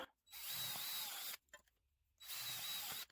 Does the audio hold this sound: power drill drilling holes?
yes